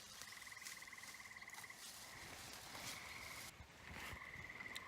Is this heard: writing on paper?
no